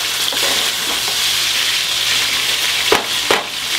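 Beef burger patties sizzle steadily in a hot pan, a dense continuous crackle with a couple of brief knocks near the end, no voices.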